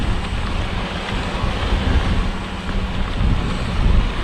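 A vehicle pushes through deep floodwater on Stoney Point Road, giving a steady, loud rushing and churning wash with low rumble that holds throughout without pause.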